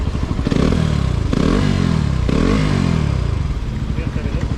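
A KTM motorcycle in neutral is revved about three times, each blip rising and falling through a loud, close engine roar, while people talk over it.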